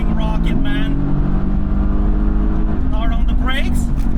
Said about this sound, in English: Let's see if traction control is going to do its thing. And we're off. Spinning tires.